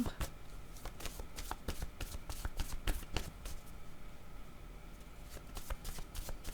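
Tarot cards being shuffled and handled up close, producing a quick run of crisp riffling snaps and flicks with short gaps between them.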